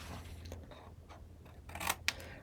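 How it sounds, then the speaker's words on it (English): Scissors snip through cardstock, trimming edges at a slight bevel for a mini album, with a few quiet close cuts and a sharper snip near the end against faint room hiss. "So you could cut these off, and I cut them off at a slight bevel."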